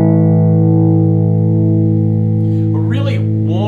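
Warm, clean tone from a 1968 Gibson Firebird VII electric guitar played through its neck mini humbucker pickup, a sustained chord ringing loudly and steadily, with a few brighter picked notes entering near the end.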